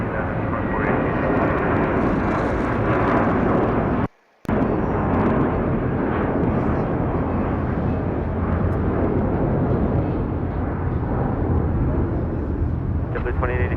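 An airliner roars with a loud, sustained engine rumble on takeoff from runway 25 Right at LAX, cutting out briefly and then building back to a steady roar, with speech likely mixed in beneath.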